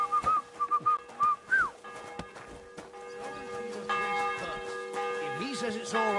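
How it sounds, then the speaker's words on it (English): A church bell rings in the medieval world of Kingdom Come: Deliverance II, with sustained metallic tones sounding at moderate distance, alongside whistling notes and faint background activity. "The bell's ringing for hands the 5th time."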